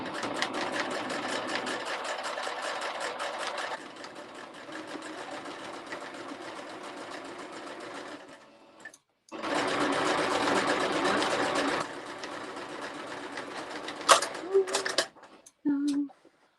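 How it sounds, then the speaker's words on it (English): Free-hand applique embroidery machine stitching steadily, its bobbin clattering about, a continuous mechanical whir that pauses briefly midway then resumes loud, with a few sharp clicks near the end. "that was my bobbin jumping about"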